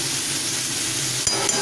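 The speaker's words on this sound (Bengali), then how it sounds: "এবার আবার একবার নেড়ে দিয়ে" Food fries in a pan with a steady low sizzle, then a quick clink and scrape of a spatula stirring it near the end.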